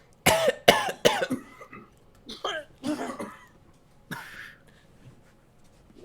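A burst of harsh, close coughing in a smoke-filled scene, several rapid coughs followed by throat clearing and a few more scattered coughs, then quiet.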